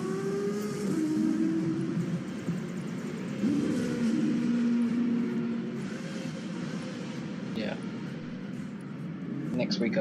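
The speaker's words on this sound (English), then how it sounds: "There's a few cars out on track." Race cars run on a China GP circuit in a racing video game, engine tones rising and falling at moderate volume under steady talk.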